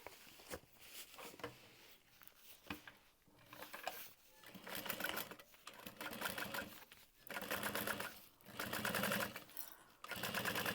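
A sewing machine runs close by in repeated bursts of rapid stitching, top stitching under a zipper panel on a crossbody bag, with short pauses between runs and no talking.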